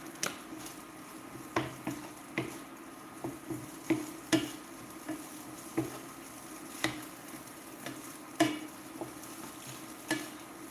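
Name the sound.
steak bites frying in a pan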